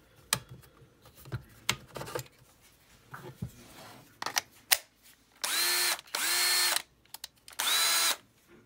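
A Makita 4332 cordless screwdriver runs in two loud, steady whirring bursts of about a second each, heard up close after scattered clicks and handling knocks, with no talking.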